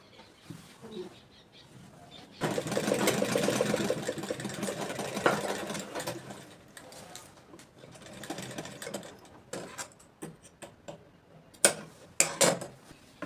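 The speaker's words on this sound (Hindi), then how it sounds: "अब हम ऊपर से टॉक स्टिच कर देंगे" A sewing machine runs in long, steady bursts as it top-stitches the leg seam of a ladies' palazzo pant, with short pauses and brief stops between the runs.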